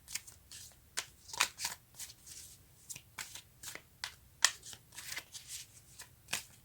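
Tarot cards being shuffled in a series of crisp riffling bursts and soft slaps, close and fairly quiet, with no talk over them.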